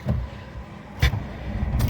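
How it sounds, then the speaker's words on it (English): A Nissan Micra K12 with a 1.4 engine, weak battery and faulty alternator cable, revs just after starting, its close engine roar surging in short bursts. "Started it, revving it there quicker so that it can pick up quick"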